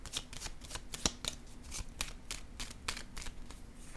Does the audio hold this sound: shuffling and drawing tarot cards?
yes